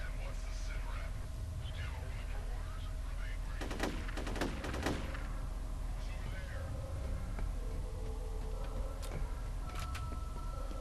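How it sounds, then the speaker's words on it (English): Gunfire in the horror shooter F.E.A.R., with a quick cluster of several sharp shots near the middle and a couple more later, all over a steady ambient game drone. "there's definitely going to be a lot of shooting going on here in a second"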